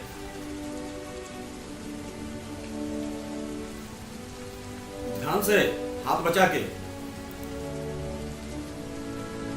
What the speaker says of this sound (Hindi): बारिश काफी तेज शुरू हो गई।